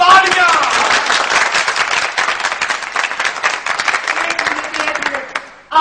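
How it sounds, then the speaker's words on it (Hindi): An audience in the Pakistani TV drama Janjal Pura gives loud, close applause that swells, then thins into scattered claps before stopping abruptly. "तालियां।"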